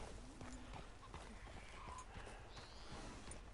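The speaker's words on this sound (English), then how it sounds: "it's because the horse is in the camp" Horse hooves clip-clopping in a camp in Red Dead Redemption 2, a run of steady, rhythmic footfalls with faint neighing and ambient game sounds, quiet overall.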